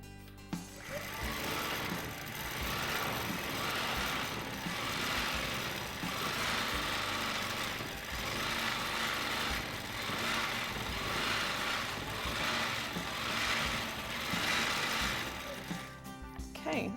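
A quilting machine stitching fabric runs steadily up close, a continuous fast mechanical hum and whir that swells and eases slightly as the needle moves, stopping abruptly at the end.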